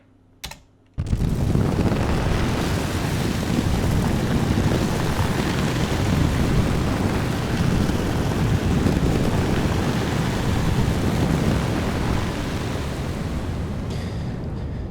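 Synthesized thunderstorm built from grain delay and reverb, a dense continuous roaring wash of rumbling noise with windy texture, loud and steady for over ten seconds after a brief click.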